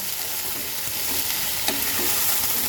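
Young crab claws and potato pieces fry together in a pan with a steady, close sizzle, with faint scrapes and clicks from stirring.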